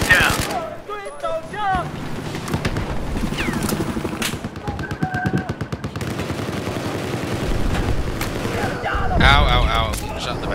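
Rapid gunfire bursts rattle through a Battlefield 4 multiplayer match, automatic weapons crackling near and far while players talk over the shooting.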